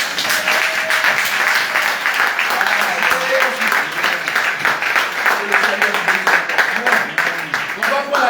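A church congregation applauds and cheers in a steady, dense wash of clapping that runs the whole time, with voices mixed into the noise.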